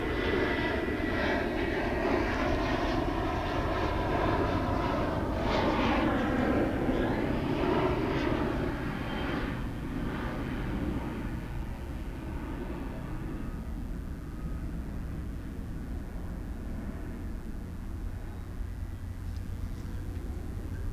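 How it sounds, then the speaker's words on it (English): A Qantas airliner takes off at DFW Airport in the evening, its jet engines roaring loudly and steadily at first, then slowly fading and thinning as it climbs away. "we'll watch this Qantas plane take off"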